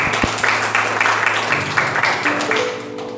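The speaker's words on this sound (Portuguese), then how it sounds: "As palmas." Applause from a church congregation at an evening service, steady and dense for about three seconds, with some tonal music or instrument notes sounding beneath the clapping.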